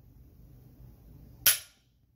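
A single sharp metallic click rings out from the trigger of a CZ Scorpion Evo3 S1 pistol as it resets, close and crisp after near silence.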